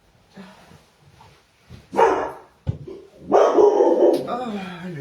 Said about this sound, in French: Oh, le chien, qu'est-ce que...